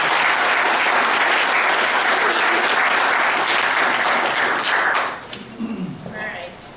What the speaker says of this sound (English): how about a big round of applause for them taking their time